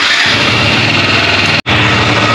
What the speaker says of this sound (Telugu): సో మనం బైక్ అయితే ఇప్పుడు స్టార్ట్ చేసేసాం అనమాట